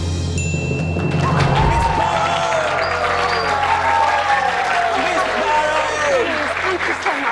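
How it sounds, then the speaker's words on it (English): A game show studio audience at Millionaire breaks into loud applause, thick continuous clapping with crowd noise, while a voice talks over it. "please give a big applause"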